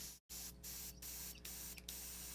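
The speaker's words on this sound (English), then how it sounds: "The dulcet tones of the compressor." An airbrush air compressor runs with a steady broadband hiss and hum, briefly cutting out near the start, with short bursts of sprayed air rising above it at intervals.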